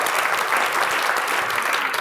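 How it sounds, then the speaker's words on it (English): Audience applause for the panelists at a religious freedom forum, a steady dense clapping from a crowd filling the whole short stretch. "Let's give one more round of applause to Rachel and our fantastic panelists."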